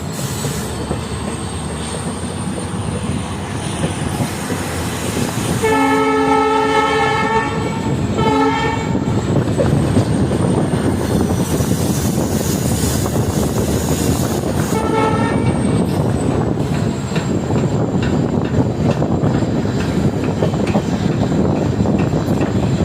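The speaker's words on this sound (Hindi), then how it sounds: "सामने एक मालगाड़ी खाली हो रही है।" A freight train on the Ahmedabad–Udaipur railway line rumbles along continuously, with two long horn blasts in the middle and another shorter one later, plus squealing wheels over the steady roll of the wagons.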